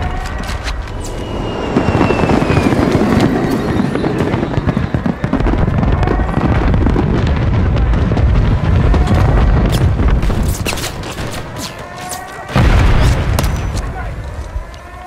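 Bomber airstrike explosions in Call of Duty Modern Warfare III, a loud continuous barrage of booming blasts and crackling bursts rolling on for about fifteen seconds, with a heavy surge near the end.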